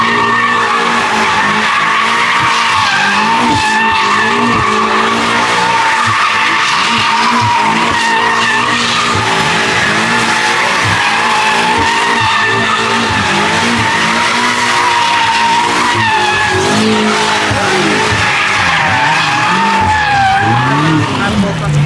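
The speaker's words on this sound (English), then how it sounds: "he's literally drifting an M5CS" A BMW M5 CS drifts at a car meet takeover, tires squealing and skidding in long wavering howls over a loud revving engine, continuous and close throughout.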